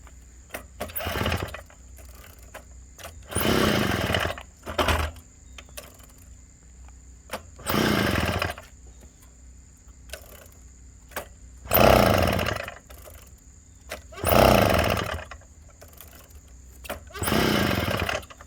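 A Puch moped engine sputtering to life in short bursts, several loud revving runs of a few seconds each separated by quieter pauses, close by and with no talking.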